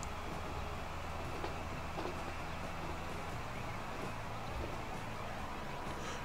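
A train of Silberling coaches hauled by a BR111 locomotive in S-Bahn livery in Transport Fever, heard as a steady, faint rolling rumble of wheels on track with no voices.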